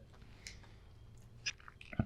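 Quiet crunchy bites and chewing on pistachio baklava, a few soft crisp crunches with a sharper bite near the end, close and alone without talk.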